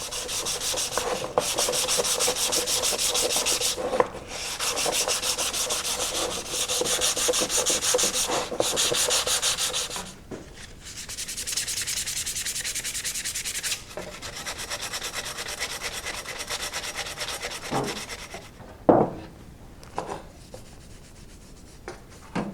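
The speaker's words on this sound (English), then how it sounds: "I'm going to sand this down just a little bit." A paint sprayer being hand-sanded before priming: continuous scratchy rubbing in long close strokes with short pauses, then a few lighter scrapes and taps near the end.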